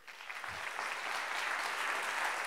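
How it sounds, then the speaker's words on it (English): A conference audience at a design leadership summit applauds as a speaker takes the stage, a broad wash of clapping that swells slightly and stays steady and fairly loud. "So let's have a big round of applause for Josh Brewers."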